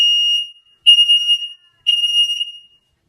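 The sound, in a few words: Nest smoke alarm sounding during test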